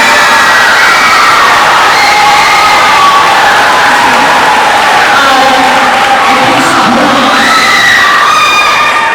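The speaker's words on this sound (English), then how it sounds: "because of our enthusiastic cheering" Students at a middle school awards day cheer loudly as a crowd, with shouts and whoops sustained throughout at a steady, dense level and scattered claps mixed in.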